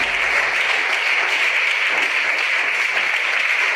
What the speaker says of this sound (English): Please give a huge round of applause for that girl.